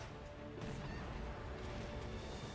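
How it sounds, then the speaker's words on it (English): A giant book smashes down in the Vindictus action game, a loud crashing impact over dense, busy game sound with music and effects. "Giant book smashes in my head."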